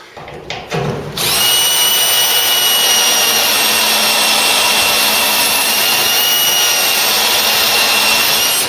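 A power drill bores into the pillar of a Mk3 Ford Cortina under restoration. Brief handling knocks come first, then a loud, steady high-pitched whine runs unbroken for over seven seconds close by.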